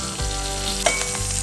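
Cumin, mustard seeds, fenugreek, dried red chillies, curry leaves and urad dal tempering in hot oil, a loud continuous close sizzle with a brief stir clatter partway through.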